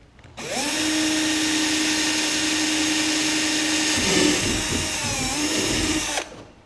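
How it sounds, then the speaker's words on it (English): A power drill bores through a kayak hull to mount a pad eye, a steady whining motor tone that shifts and strains midway as the bit cuts through, then stops abruptly, close and loud. "Drill the other side."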